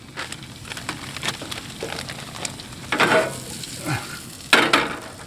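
Already cooked, spiced meat sizzles in butter in a pan at a campground, a soft steady fry with occasional louder scrapes and clatters of a utensil, close and without voices.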